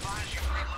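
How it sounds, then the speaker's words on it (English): A Hammer Burst rifle fires a quick burst of rounds in a video game, sharp low thumps packed into under a second. "hammer burst is a 6-shot burst weapon, right? I made it a little bit more usable. It's a 3-burst."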